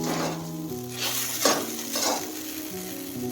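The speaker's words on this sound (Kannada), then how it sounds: "ಇನ್ನೊಂದು ಸ್ವಲ್ಪ ಫ್ರೈ ಮಾಡ್ಕೋಬೇಕು." Ladies finger (okra) palya frying in a pan, an even close sizzle with a few scraping stirs and light clinks of utensil against the pan over a low steady hum, and no voices.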